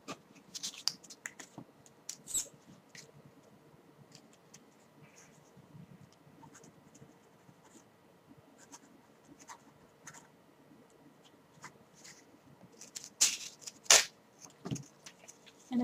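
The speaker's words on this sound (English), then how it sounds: "I'm also going to write you a prescription for a couple of months" Pen scratching across paper as a prescription is written out in a quiet dermatologist-office setting, soft irregular scribbles with a few louder rustles and taps near the end, close and intimate with no talk.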